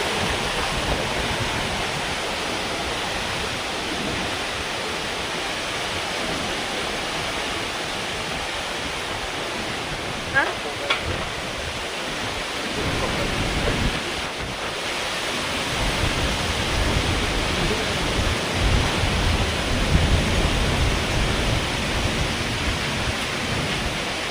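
Strong wind and rain roar outdoors as a continuous, loud broadband rush lasting throughout, swelling slightly in the second half, with no voices.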